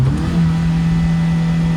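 Car engine revving hard as the vehicle struggles to get unstuck on a high mountain road near Hanle in Ladakh, a steady loud drone with a rising pitch early on, close and continuous without a break.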